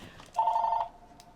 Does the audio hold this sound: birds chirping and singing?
no